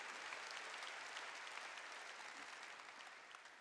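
A church congregation applauds during a sermon, a faint, dense, continuous patter of many hands heard from a distance. It holds steady and eases off slightly toward the end.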